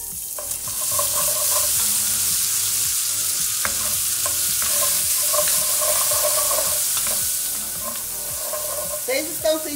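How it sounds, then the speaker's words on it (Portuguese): Half a medium chopped onion fries in a pan with leftover rice, giving a steady, fairly loud sizzle throughout with occasional stirring clinks and no talk. "Vamos deixar dar uma fritadinha nessa cebola também."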